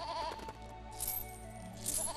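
A goat bleats twice in the Lego Lord of the Rings video game, short nasal calls standing out over steady game music and ambient background.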